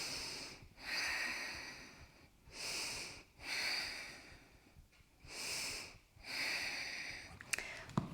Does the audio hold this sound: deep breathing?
yes